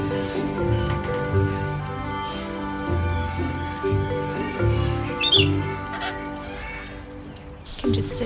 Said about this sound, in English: Let's see the birdies.